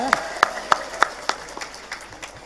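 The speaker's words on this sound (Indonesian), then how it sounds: "Tepuk tangan dulu, luar biasa." A small audience at an Islamic sermon in Ciamis claps in a loose, fairly regular rhythm, with a few sharp claps standing out before the sound tails off.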